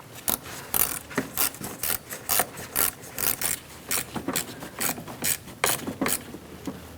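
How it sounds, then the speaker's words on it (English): A ratchet tightening the nut on the negative battery terminal of a 2020-2026 Toyota Corolla, a steady run of close, sharp clicking strokes in an even rhythm with no talking. "we're going to put our negative battery terminal on and tighten up the nut."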